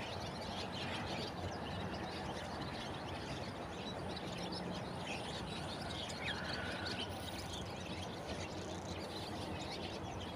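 A flock of birds chirps over a rice field on a foggy, overcast morning, with scattered calls buried in a steady, dense wash of outdoor background noise throughout.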